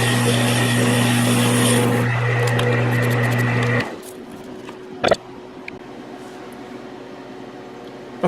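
Metal lathe running a final light cut, steady machine hum with a tonal whine that drops away partway through, followed by a brief clunk and a quieter background drone.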